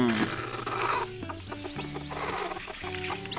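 A native black hen clucks near her newly hatched chicks in a setup box, with repeated close, throaty clucks in short bursts that carry on steadily.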